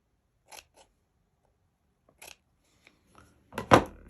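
Scissors snip through the ends of a ribbon bow being trimmed for a handmade Christmas card, a few short crisp cuts separated by quiet pauses, close up and alone with no talk.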